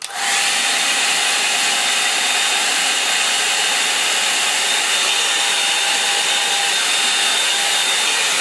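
A hair dryer blows steadily on a watercolour painting, a loud, continuous close whoosh that starts abruptly and holds without pause, with no talking.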